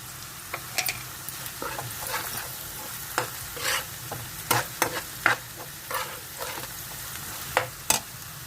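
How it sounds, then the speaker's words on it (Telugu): Potatoes fry with garam masala in a pan for potato gravy, with a low steady sizzle broken by frequent, irregular spatula scrapes and clacks as they are stirred close up. "బాగా వేగిపోవాలి కొంచెం గరం మసాలా పౌడరు"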